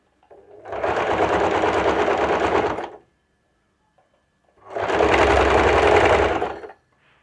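Sewing machine stitching a kurti, running in two steady bursts of about two seconds each with a pause between, close and clear with a fast even rattle.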